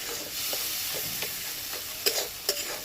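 Pointed gourds stuffed with shrimp filling fry in a pan with a constant loud hiss of oil, while a spatula stirs them with occasional soft scrapes and two sharper knocks near the end.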